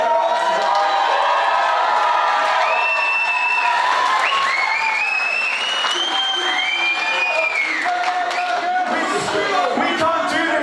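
A wrestling show crowd bursts into loud, sustained applause with cheering, whoops and high shouts rising and falling throughout, dense and close like an indoor audience.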